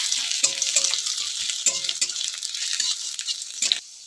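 Chopped garlic and ginger sizzle in a pan as they are stirred, with a few clicks of the spatula. The frying stays close and steady, then drops off abruptly near the end, with no voices.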